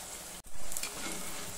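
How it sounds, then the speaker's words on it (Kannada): Cauliflower florets for Gobi 65 frying in hot oil, giving a steady close sizzle with a brief dip partway through, and no voices. "ನೋಡಿ, ಗೋಬಿ ಬೇಯ್ತಾ ಇದೆ. ಇನ್ನೊಂದು ನಿಮಿಷ ಫ್ರೈ ಆಗಬೇಕು ಗರ್ಗರಿಯಾಗಿ."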